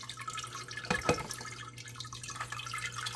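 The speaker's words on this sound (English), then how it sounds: "Water comes out. All the splashing is contained inside the jar, and then it just goes back into the bucket." Homemade cat water fountain splashing water into a jar set in a bucket, a quiet trickling and dripping with a brief louder splash in the middle, close and soft.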